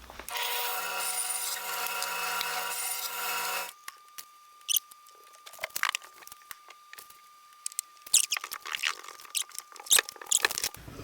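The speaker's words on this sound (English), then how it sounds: "We'll go do that on the bandsaw real quick." A bandsaw cuts a wood blank for a cigar box guitar neck, a loud steady whining buzz for about four seconds that stops abruptly, followed by scattered clunks, taps and handling noises in a quiet workshop.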